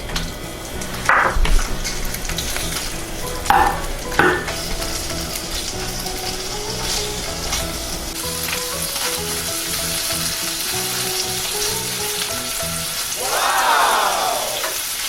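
Abalone fries in butter in a pan, a steady sizzle that runs throughout with a few louder clanks and stirring knocks, close up and without voices.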